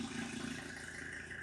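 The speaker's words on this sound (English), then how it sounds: "Starts right up, idle smooth, runs great" A diesel truck engine idles steadily with a low, even rumble and a light rattle, heard close and alone without talk, sounding fairly faint.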